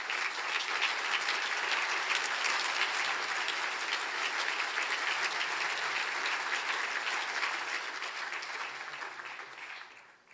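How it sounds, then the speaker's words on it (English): Audience at a university honorary degree ceremony clapping in sustained, dense applause that holds steady for several seconds and then tapers off near the end, with no distinct talking. "thank you very much for that rapturous applause"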